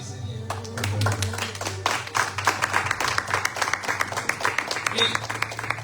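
Church congregation applauding for the Lord at a prophet's sermon, a sustained round of clapping with dense, rhythmic hand claps building after a spoken voice and continuing steadily.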